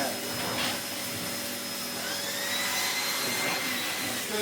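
A Sebo K3 Premium vacuum cleaner motor runs steadily up close, a broad constant whine and rush of airflow with a faint high tonal line, with no talking.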